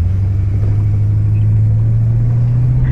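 A classic American luxury car with a 210-horsepower V8 accelerates, heard from inside the cabin as a steady, loud, low engine rumble that drones on throughout with no talking.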